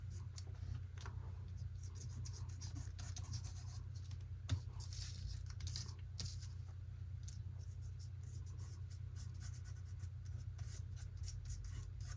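Ink being rubbed onto a card during a Valentine papercraft project, faint, soft, irregular scratchy rubbing over a steady low hum with one small tap partway through.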